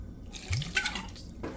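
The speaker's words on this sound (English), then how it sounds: "Now I will squeeze my lemon juice in here and add a little bit of coconut water in it." Liquid splashes and drips into a bowl of cut mango as lemon juice is squeezed and coconut water poured in, a few soft, close wet trickles with no talking.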